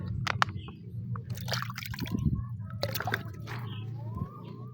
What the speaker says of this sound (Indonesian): Siram pupuk setengah-setengah.